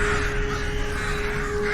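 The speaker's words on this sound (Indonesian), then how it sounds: "Mereka juga melihat sekumpulan gagak berterbangan." Crows cawing amid a dense, steady outdoor din, their calls blending into continuous noise rather than standing out as clear separate caws.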